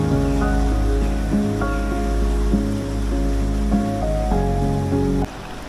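A steady, rushing roar of water at Bir waterfall, the cold, deep flow loud and continuous, sits under prominent melodic background music throughout.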